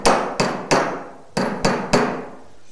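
Hammer driving small panel pins of different sizes, six sharp metallic strikes in an irregular rhythm with short decays, close and loud with no talking.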